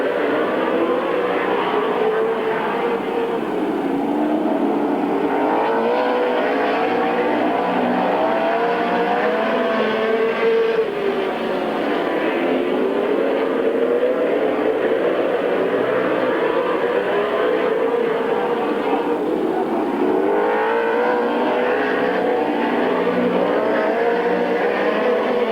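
Race cars lap Midvale Speedway in 1994, engines whining and rising and falling in repeated swells as they pass, with a loud, continuous pack roar throughout.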